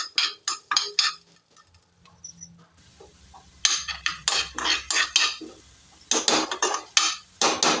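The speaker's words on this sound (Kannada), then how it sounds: "2 ಸ್ಪೂನ್ ಕೊತ್ತಂಬರಿಯನ್ನು ಹಾಕಿ ಹುರಿದುಕೊಳ್ಬೇಕು. ಮಧ್ಯಮ ಉರಿಯಲ್ಲಿ ಹುರಿದುಕೊಳ್ಬೇಕು." Coriander seeds roasting in a pan over a medium flame, with repeated metallic scraping and clinking of a spoon stirring against the pan in short bursts, close and fairly loud, pausing briefly midway.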